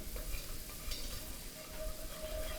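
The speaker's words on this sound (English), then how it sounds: "you just make sure you whisk it in really, really good" A whisk works flour into a sizzling roux for shrimp étouffée in a pan, with steady frying hiss under continuous close scraping and stirring strokes.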